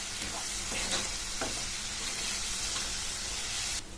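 Sour mango pieces with chili powder and spices stir in a pan, a steady sizzling hiss with occasional scrapes of a spoon against the metal, continuous and close.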